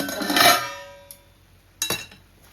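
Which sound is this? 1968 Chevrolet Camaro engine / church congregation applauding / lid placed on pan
lid placed on pan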